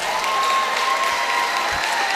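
Crowd applause for a senior player on basketball senior night in a high school gym in Sulphur Springs, Texas, a steady wash of clapping and cheering filling the space.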